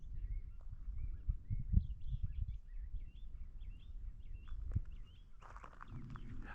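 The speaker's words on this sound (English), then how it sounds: "Listen to the birds." Birds sing and chirp in the Sonoran Desert at a campsite with dead wood around, short repeated calls heard at a moderate distance over steady wind and low rumble, with a brief rustle near the end.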